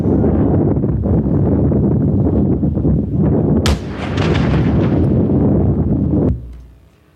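Two explosive perforators fired at 90-degree angles into a hard drive lying flat, heard as a loud, roaring blast with a sharp crack partway through, then a sudden cutoff into fading rumble.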